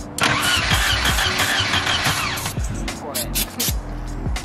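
A 1978 Volvo engine cranks in loud rhythmic bursts, catching and sputtering briefly between attempts without settling into a run, close and alone.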